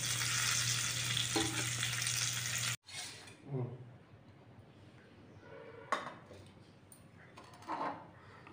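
Fish pieces fry in ghee with a loud, dense sizzle that suddenly drops to a quieter crackle as the pieces are turned, with occasional scrapes and clinks from the pan.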